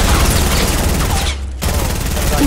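Rapid automatic gunfire in a Fortnite solo match, loud, dense bursts rattling almost continuously with a brief gap midway, over a noisy game mix.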